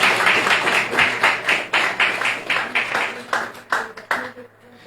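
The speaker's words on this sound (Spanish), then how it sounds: "démosle un aplauso al Señor" A church congregation clapping in a steady rhythmic beat, roughly two claps per second, loud and near, thinning out and fading toward the end.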